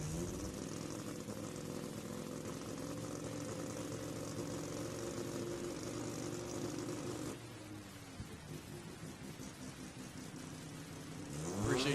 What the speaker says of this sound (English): Just trying to bring the RX-7 into the beams here